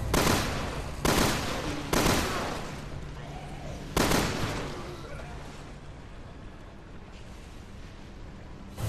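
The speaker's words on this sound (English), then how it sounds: "All this does is fire 2 bullets." Shotgun-like gunfire in Resident Evil Revelations 2, each shot loosing two bullets; four loud sharp blasts at roughly one-second intervals, each trailing off into a reverberant decay, with no talk.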